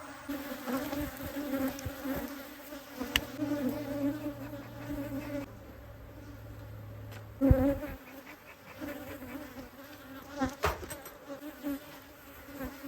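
Honeybees buzz in an opened hive box during a spring inspection in Texas Hill Country, a soft, steady swarm drone with fluctuating pitch from many insects, faint and continuous with occasional brief knocks.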